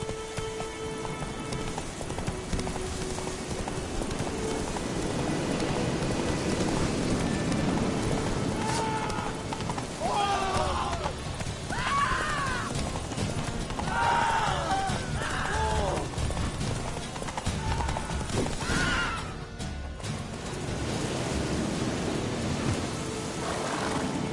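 Roach, the horse in The Witcher 3, gallops with quick, muffled hoofbeats under a constant rain-like wash. A few brief calls cut through in the middle, and the hooves stay moderately close throughout.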